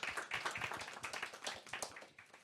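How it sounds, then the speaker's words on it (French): A small panel audience claps for a speaker at a talk on ecology and women, a faint, distant spatter of individual claps in loose rhythm, fading over a couple of seconds. "On l'applaudit."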